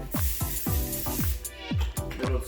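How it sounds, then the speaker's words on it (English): Butter-flavored vegetable oil sprayed onto cookie sheets in short, repeated hissing bursts, about eight quick sprays in a steady rhythm, close and fairly quiet, with no talking. "spray these cookie sheets with some vegetable oil"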